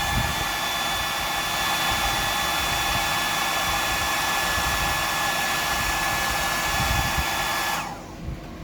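A hair dryer blows a steady, loud, close-up rush of air over the first coat on a fishing lure, then cuts off abruptly near the end.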